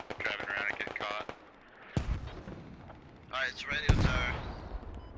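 Mortar and artillery fire in the military shooter game Squad: two heavy, booming impacts land about two seconds apart amid radio chatter, with people talking over and between the blasts.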